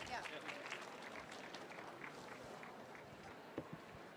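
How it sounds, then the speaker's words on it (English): Faint applause from an audience, a soft patter of many hands clapping at a distance that slowly tapers off. "you can give her a round of applause, please."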